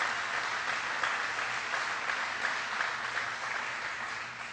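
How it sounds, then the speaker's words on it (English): A crowd at a political event with President Obama applauds Congresswoman Gwen Moore, a steady, dense round of clapping that holds evenly and eases slightly toward the end. "Please give her a big round of applause."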